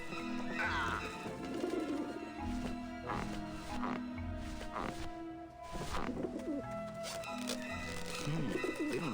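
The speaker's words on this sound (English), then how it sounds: "Run, you pigeons!" Pigeons coo repeatedly in Grim Fandango, soft rhythmic low calls layered over a busy musical and game soundscape, fairly quiet and continuous throughout.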